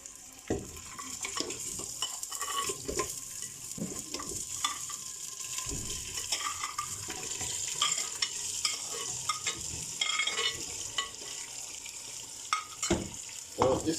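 Meat being stirred and roasted in a clay pot, with a steady sizzle and frying hiss broken by repeated scraping and clinking stirs throughout, close and continuous.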